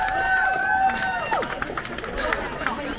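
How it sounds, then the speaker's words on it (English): Roadside crowds near mile 17 of the Rob Burrow Leeds Marathon, a hot day, whoop and whistle as runners pass, a loose babble of cheers and shouts rising and falling close by. "Listen to these crowds."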